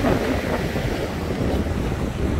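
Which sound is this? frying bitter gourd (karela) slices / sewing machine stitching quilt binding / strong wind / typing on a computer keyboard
strong wind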